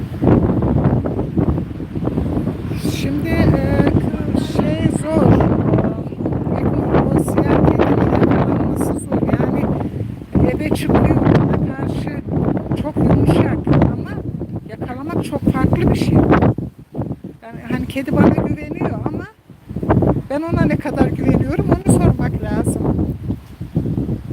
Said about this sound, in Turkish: Rodos evet çok rüzgar var.